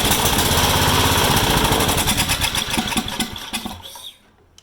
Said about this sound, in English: now if the engine runs for a few seconds, we know that this is an issue inside the carburetor